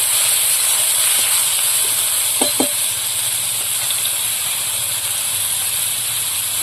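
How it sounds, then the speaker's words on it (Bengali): Prawns sizzling in hot oil in a pan after fried onion and garlic, a loud steady hiss throughout with a couple of brief clicks near the middle. "এবার আমি চিংড়ি মাছ দিয়ে দেবো"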